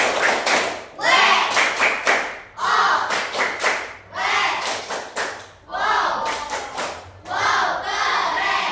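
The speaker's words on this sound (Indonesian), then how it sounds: "Kita kasih apresiasi dulu dengan tepuk wow." A seated group performs a tepuk wow clap chant, beating out rhythmic bursts of clapping in unison, each short phrase separated by brief pauses, with voices chanting along between the claps.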